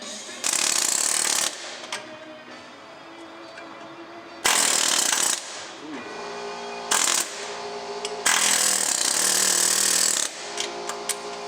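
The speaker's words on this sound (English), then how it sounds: "We're using the Sawzall." A Sawzall reciprocating saw cuts at a differential bushing on a Nissan 350z, in loud buzzing bursts of a second or two separated by pauses, with metallic clanks and rattles between runs.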